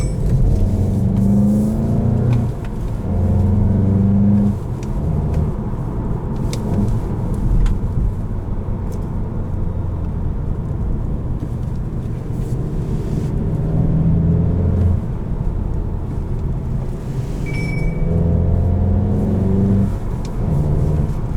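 A 2021 Volkswagen GTI SE with a 2.0 turbo engine and manual gearbox drones and rises in revs from inside the cabin while driving, a loud steady low rumble with engine pitch climbing and falling across shifts.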